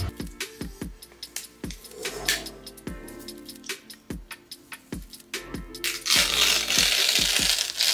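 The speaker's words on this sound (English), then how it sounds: "we're going to peel off the plastic" Plastic protective film peeled off paper packaging while unboxing an XREAL Beam Pro, giving a run of close, sharp crackles and crinkles with brief snaps, growing into a louder, steady rustling tear near the end.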